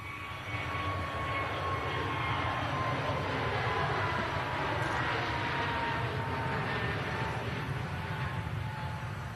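A Jet2 Airbus A321neo airliner passes with a loud, continuous engine roar and whine, the tone shifting slowly as it moves past, steady and dominant throughout with no talk.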